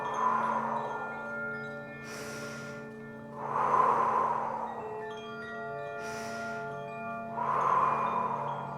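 Yoga breathing exercise with repeated nasal inhales and exhales, three broad breath swells roughly every four seconds, close and fairly soft over a faint steady hum.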